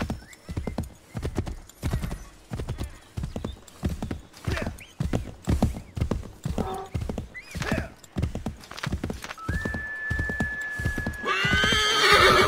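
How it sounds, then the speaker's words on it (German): Horse hooves clip-clop in a steady, repeated rhythm inside Assassin's Creed III, fairly close, with brief whinnies and neighs partway through and a rising snort or neigh near the end; no speech over it. "Ja, Pferdi."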